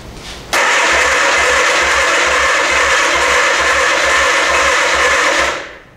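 A 1979 Suzuki GS motorcycle engine on choke with new plugs and battery cranks steadily: a loud, even starter whir with rhythmic pulses for about five seconds before cutting off, alone without talk.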